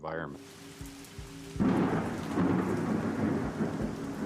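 Heavy rain suddenly pours down with a rumbling roar of thunder, loud and close, after a brief quieter moment with a faint tone.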